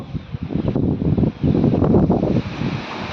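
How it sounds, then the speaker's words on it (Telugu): Gusty wind buffets the microphone with a loud, low rushing roar that rises and falls in waves. "గాలి వస్తుంది."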